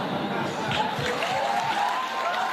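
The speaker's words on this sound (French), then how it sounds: "On applaudit, bravo." Audience applause on a French radio talk show, a brief burst of dense clapping from a small crowd, steady and moderately loud throughout.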